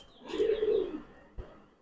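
A pigeon at a breeder's loft of high-flyer and fancy pigeons gives one close, soft, throaty coo lasting about a second, followed by a faint thump, with no talk.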